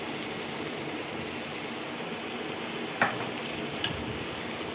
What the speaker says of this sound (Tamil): உப்பும் சேர்த்து நம்ம வதக்கி எடுத்துக்கலாம்